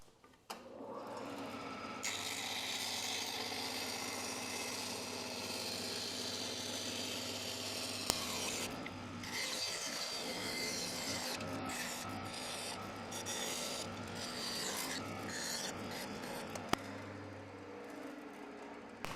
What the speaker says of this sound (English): I'm going to go over my bandsaw and cut this bad boy out.